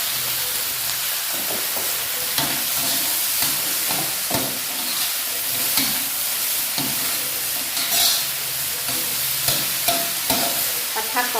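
Steady loud sizzling of mixed vegetables and mushrooms stir-frying in a hot wok, with scattered clinks and scrapes of a utensil throughout.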